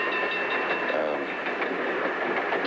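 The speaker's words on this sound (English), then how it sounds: "This train's traveling a long way." A train travels along the rails with a steady, loud rumble and a rhythmic clickety-clack of wheels over the joints, heard as a continuous ride.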